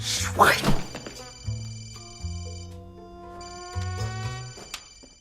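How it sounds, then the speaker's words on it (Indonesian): A mobile phone rings with a repeating electronic melody of stepped tones, starting after a short burst of clattering thumps and continuing moderately loud. "tiba-tiba ponselnya berdering"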